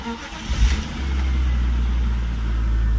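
A German car's engine catches and settles into a steady, loud low idle after a short burst of cranking and revving, with no voices.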